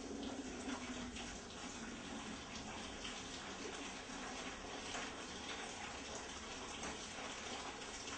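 Water gushes and splashes steadily as it is poured into a bucket for a water heater test, a continuous close, fairly loud pour with no talking.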